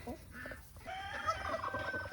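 Hens cluck softly nearby in a short, busy burst of murmuring poultry sounds, with no one speaking.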